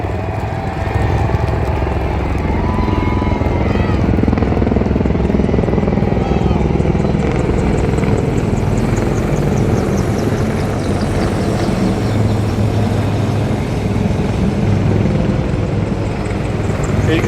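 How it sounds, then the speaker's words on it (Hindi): Dhruv and Rudra military helicopters fly over an Army Day parade in Jaipur, producing a loud, steady rotor drone that throbs without pause. Voices are mixed in beneath the constant noise. "हर मिशन का हिस्सा बन रहे ध्रुव एवं रुद्रा हेलीकॉप्टर"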